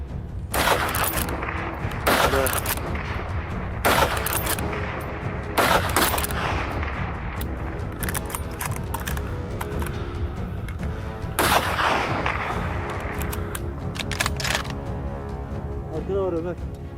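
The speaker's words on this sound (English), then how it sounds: "Two boars from the herd were brought down after a series of rapid shots." Rapid rifle shots during a wild boar hunt on an open, windy Turkish hillside, a handful of sharp distant cracks in quick succession over steady wind noise while a voice talks throughout.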